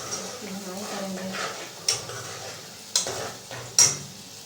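Ingredients for rice kadhi being roasted in a pan, a quiet sizzle under soft stirring with a few sharp spoon scrapes and taps against the pan. Faint voices are heard in the background.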